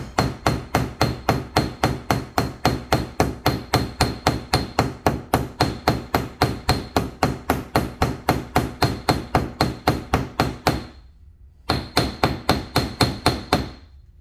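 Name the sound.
hammering to set a rivet in leather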